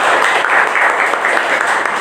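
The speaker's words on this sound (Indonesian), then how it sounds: "Tepuk tangan buat Yuni kelompok 1." Classroom applause from students for a group presentation, a continuous, fairly loud burst of clapping filling the short stretch without pause.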